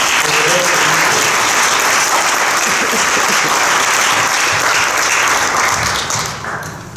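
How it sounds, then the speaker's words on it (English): Loud, sustained applause from a banquet crowd fills the room, dense and steady throughout before tapering slightly at the end. "one more round of applause."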